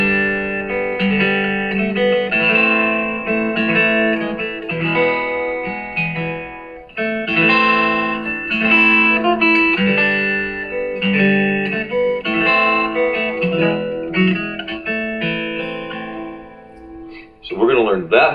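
The melody of Greensleeves is played on guitar as a slow line of ringing, plucked notes with chords, lasting through with brief pauses and no talking.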